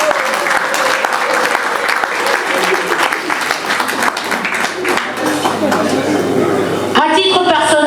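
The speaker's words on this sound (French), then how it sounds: "que je vous prie d'applaudir très très très très fort" An audience claps loudly and steadily at an installation ceremony for a new association board in Paris, dense applause close by with voices mixed in, ending in a sharp change of sound.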